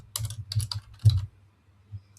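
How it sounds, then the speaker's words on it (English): Typing a name on a computer keyboard while adding an e-signature: a quick burst of close key clicks, a short pause, then a single final keystroke. "in order to sign it, I'll just click here, and I can type in my name"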